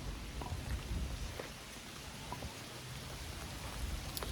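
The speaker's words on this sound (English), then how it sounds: "I just love the sound of rain." Steady rain falls outdoors in a dune park, a dense continuous hiss with scattered drops ticking on nearby surfaces and no voices.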